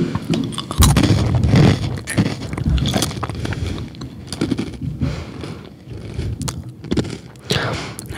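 Goldfish crackers crunched and chewed close up in repeated bites, sharp crisp cracks followed by softer grinding, with pauses between mouthfuls.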